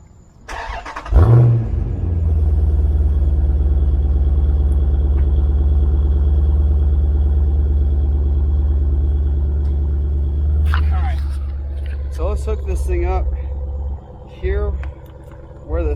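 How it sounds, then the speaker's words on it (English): A Jeep Grand Cherokee SRT engine cold-starts with a sharp crank and catch, then settles into a loud, steady, deep idle rumble that keeps running close by while people talk over it toward the end. "want to hear a cold start on a Jeep Grand Cherokee SRT"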